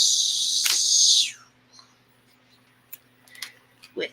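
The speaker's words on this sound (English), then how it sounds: "And then I just gotta trim my zipper tape" Sharp scissor snips trimming zipper tape edges open the clip, a dense crisp burst of cutting lasting about a second, followed by a few faint clicks and handling noises.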